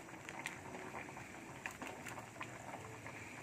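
Soft bubbling and popping of thick curry with potatoes simmering in a pot, quiet and steady with small irregular bursts.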